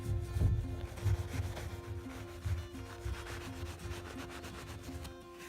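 Steady wet sanding strokes on a piece of furniture, a soft continuous scrubbing rasp with a low hum underneath, fairly quiet and close.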